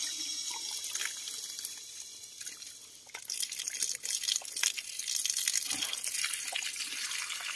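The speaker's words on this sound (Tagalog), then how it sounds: "So inom muna ako ng tubig mga kadol dahil nauhaw po ako" Cold mountain water from a spring near Mount Canduyog gushes and splashes steadily at close range, like an open tap, with no voices over it.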